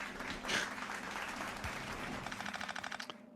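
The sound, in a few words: applause sound effect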